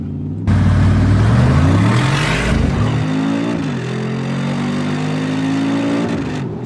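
An Urban Design G700, an upgraded Mercedes-AMG G63 SUV, launches and accelerates hard, its engine roaring loud and close with rising revs and a brief gear shift, then pulling steadily onward with no talk over it.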